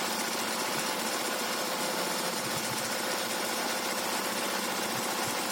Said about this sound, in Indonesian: Pastikan cairan mikrobanya sudah tercampur merata, maka kita siramkan secara perlahan ke dalam mesin pengaduk